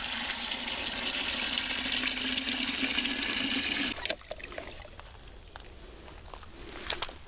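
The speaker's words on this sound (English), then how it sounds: "Now some water." Water poured steadily into a container to make a two-gallon mosquito bits soak for fungus gnats. The loud, even splashing runs for about four seconds, then stops abruptly, leaving faint handling noises.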